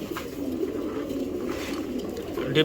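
Giribaz pigeons in a loft with eggs and newly hatched chicks coo in a low, continuous murmur, with no voices over it.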